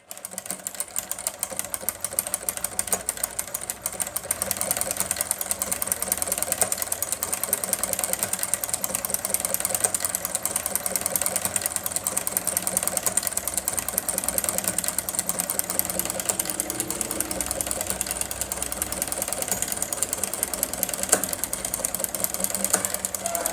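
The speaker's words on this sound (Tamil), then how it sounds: "இப்போ நான் தச்சு காமிக்கிறேன் துணியில் மடிப்பு மடிப்பு தையலை நீங்கள் பாருங்கள்" A power sewing machine fitted with a button ruffler attachment stitches pleats into fabric, running as a continuous, fast mechanical whir with no pauses, close and steady throughout.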